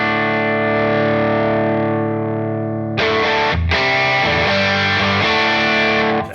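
Guitar through a Colombo Audio Electronics overdrive pedal with the gain raised, a long ringing distorted chord followed by a few more crunchy strummed chords, close and dense with some reverb.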